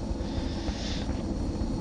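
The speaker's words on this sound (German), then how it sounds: "wir fliegen in einem Heli" Steady broadband rotor and engine drone of a helicopter in flight in the video game XCOM: Enemy Unknown, a continuous, even roar with no voices.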